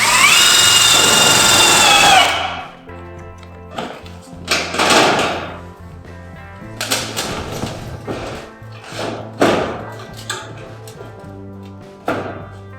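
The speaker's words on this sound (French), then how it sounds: "Et je viens visser ici, sur le haut de l'onde." A power screwdriver drives screws into the crest of a corrugated steel roofing sheet, giving several short whirring bursts separated by pauses and a louder opening run, with no talk.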